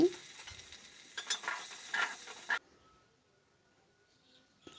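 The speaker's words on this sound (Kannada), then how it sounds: "ಕರಿಬೇವು, ಹಸಿಮೆಣ್ಸಿಕಾಯಿ ಹಾಕಿದೆ, ನೀರುಳ್ಳಿ ಕೂಡ ಹಾಕ್ತಾಯಿದ್ದೀನಿ ನೋಡಿ. ಹಾಕಿದ ಮೇಲೆ ಮಿಕ್ಸ್ ಮಾಡಿಕೊಡಿ." Onions, curry leaves and green chillies hit hot oil for an instant dosa batter mix, giving a close, bright sizzle with stirring bursts for about two and a half seconds before dropping to near silence.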